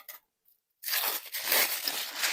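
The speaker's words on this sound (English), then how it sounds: "Whenever I use scissors on like vinyl, it makes me nervous, but I don't know how else I'm going to get this off." Scissors cut through vinyl doll packaging during an unboxing of Maplelea dolls: a couple of quick snips, a brief pause, then a sustained close crunchy rasping as the blades work through the plastic.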